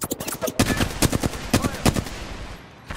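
Video game gunfire rattles in rapid bursts of close, sharp shots, densely packed for about two seconds before trailing off, with no speech.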